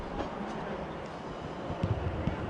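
A lone Class 377 electric train moving through Clapham Junction station, a steady low rumble with a few louder clunks of wheels over track joints near the end, heard at moderate distance.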